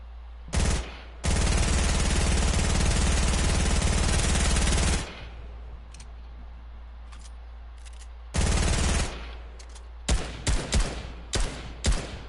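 Automatic gunfire from weapons in the Fortnite video game, with long sustained bursts and shorter sharp volleys separated by gaps, loud and close.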